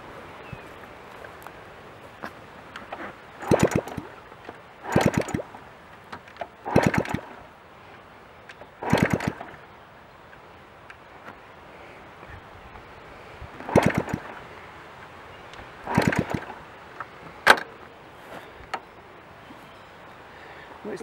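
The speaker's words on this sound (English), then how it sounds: "Let's kick the engine over" A 1981 Honda CT110 Trail motorcycle engine is kicked over again and again during a compression test, each stroke a short whooshing burst, spaced a second or two apart without catching.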